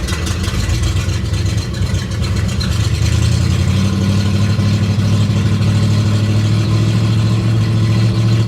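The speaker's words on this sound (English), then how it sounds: "This is idle, but if I give it some gas, listen how it picks up." A loud, rough 1960 Chevrolet Impala engine, after sitting 32 years, idles nearby, then revs up into a deeper, louder rumble that holds steady to the end.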